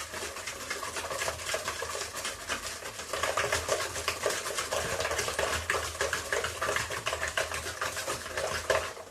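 Yogurt being stirred into carob cake batter in a bowl, a brisk rhythmic scraping and wet clicking of utensil against the bowl, steady and close throughout.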